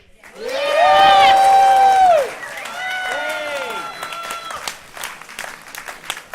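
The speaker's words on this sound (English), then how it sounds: "a really big cheer for all those under 25s" A poetry event audience, gathered at the 2014 Goolwa Poetry Cup, bursts into a big cheer with whoops and clapping for young under-25 poets, loud at first then tapering into scattered applause.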